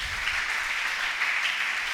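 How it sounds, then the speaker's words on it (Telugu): A church congregation clapping together in praise, dense sustained applause from many hands, steady and fairly loud for the whole stretch without a break. "చప్పట్లు కొట్టి దేవుని నామాన్ని మహిమపరుద్దాం"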